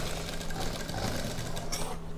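A sewing machine stitching a blouse sleeve runs in a steady, loud, continuous whir with a fast rhythmic needle chatter, close up and uninterrupted.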